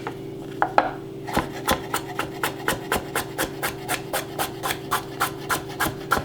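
Knife chopping vegetables on a cutting board for a chicken soup with beans and bok choy: a steady, even run of about twenty crisp, close taps, one every quarter second, alone with no talk.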